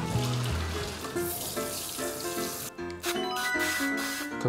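Cold water runs from a kitchen tap during lasagna preparation, a steady close splashing stream with clinking pan or dish sounds over it and no talk.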